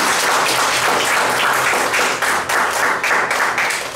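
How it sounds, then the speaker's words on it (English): A club meeting audience gives the table topic master a full round of applause, dense steady clapping from many hands that stays loud and close throughout with no speech over it. "Let's give this table topic master a good round of applause"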